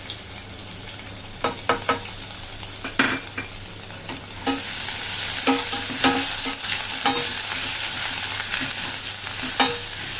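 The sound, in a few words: garlic frying in a pan before adding ginger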